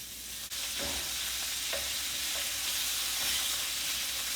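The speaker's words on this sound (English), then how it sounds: "I'm also in here putting in a pound of ground beef." Hot sausage and ground beef frying in a skillet for baked ziti, a steady loud sizzle with occasional stirring scrapes and soft clatters, no voices.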